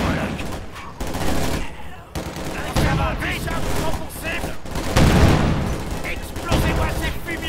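Sustained battlefield gunfire from the video game Company of Heroes 2: dense overlapping rifle and machine-gun bursts with booming blasts, loud and continuous, with voices shouting in the mix.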